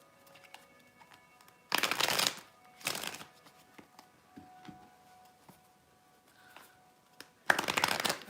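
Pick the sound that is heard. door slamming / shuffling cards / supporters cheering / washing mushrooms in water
shuffling cards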